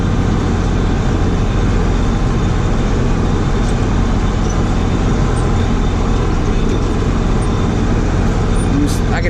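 A tractor engine pulling under heavy load during harvest, a loud steady diesel drone with constant low rumble throughout, close and unbroken.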